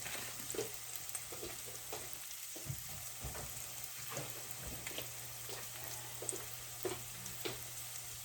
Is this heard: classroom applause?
no